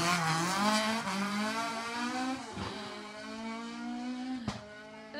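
A rally car tears through a stage at the Jersey Rally, its engine climbing through rising revs, dipping on a gear change, then pulling hard again. It is loud and close, with a sharp transient near the end.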